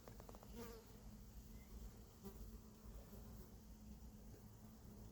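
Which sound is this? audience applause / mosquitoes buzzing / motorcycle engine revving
mosquitoes buzzing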